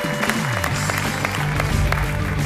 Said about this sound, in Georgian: ჩვენ ისე აპლოდისმენტებით გავაცილოთ